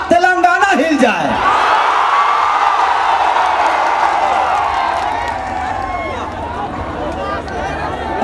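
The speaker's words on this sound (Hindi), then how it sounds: "लेकिन मैं चाहता हूं कि महिपाल चाचा के लिए कितना जोरदार ताली और हल्ला करके कि पूरा तेलंगाना हिल जाए" A large political rally crowd at a Chhath Puja gathering in Patancheru, Telangana, erupts in loud clapping, cheering and whoops, a dense continuous roar that swells early and holds steady to the end.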